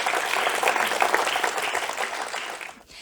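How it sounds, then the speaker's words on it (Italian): An audience at an awards ceremony in Sardinia applauds with dense, steady clapping that fades away toward the end. "facciamo un applauso."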